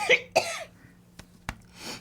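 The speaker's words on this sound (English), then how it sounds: "I'm having a cough." Two sharp coughs close together, followed by a faint throat noise and a soft breath.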